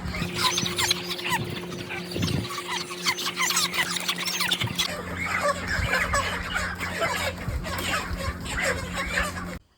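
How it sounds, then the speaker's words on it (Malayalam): Broiler chickens squawking and squealing as they are caught from the shed for loading, a dense close chorus of shrill cries over a steady low hum, cutting off abruptly at the end. "മൂപ്പരും തകൃതിയായിട്ട് ഇതാ കോഴി പിടിച്ചുകൊണ്ടിരിക്കുകയാണ്"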